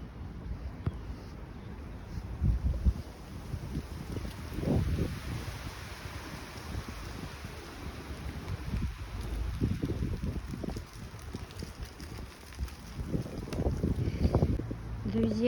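Strong cyclone wind of about 30 m/s blows with snow along the sea at Yalta in December, roaring in heavy gusts that swell and fade and buffet the microphone over a low rumble of sea.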